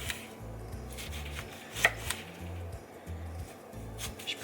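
A knife cuts oranges in a regular chopping rhythm, each cut faintly rattling a metal tray in the oven, quiet and close with no talk.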